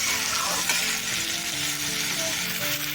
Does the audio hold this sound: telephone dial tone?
no